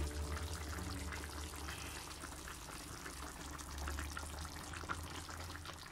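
Bolognese ragù meat sauce simmers in a pot, giving off soft, continuous bubbling and gurgling over a low background hum, faint and close with no voices.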